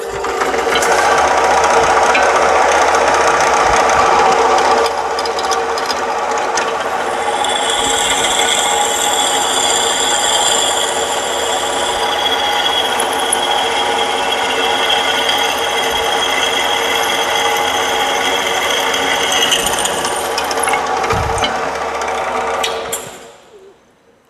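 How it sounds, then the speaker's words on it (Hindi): A drill machine bores a hole into a finished fitter's workpiece in a workshop, a loud continuous mechanical whir running steadily for over twenty seconds before winding down and stopping. "और अब इसमें होल करना है, तो इसे ड्रिल मशीन पे लाते हैं"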